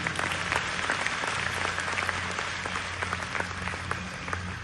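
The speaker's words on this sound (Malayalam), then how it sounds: "നമ്മളെല്ലാവരും ഒരുമിച്ച് നമ്മളുടെ ഫാമിലിന് വേണ്ടി ഒരു വലിയൊരു കയ്യടി കൊടുക്കുക" An audience claps together in a long, steady round of applause at a family gathering or event, dense and even throughout with no voices rising above it.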